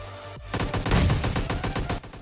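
Rapid bursts of gunfire in the mobile battle-royale game PUBG Mobile Lite, a dense volley of close, loud shots crackling in quick succession for about two seconds with no talk.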